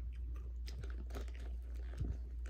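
Spicy crunchy Takis chips being chewed close up, with irregular soft crunches over a steady low hum and no talking.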